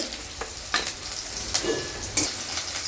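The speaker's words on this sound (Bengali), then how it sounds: "আদা কুচানো ছিল সেটা দিয়ে দিলাম, আদাটাও একটু ভাজা হবে।" Chopped ginger sizzles in a hot pan, with a steady frying hiss and a few sharp stirring scrapes and clinks spaced through it, close and fairly quiet.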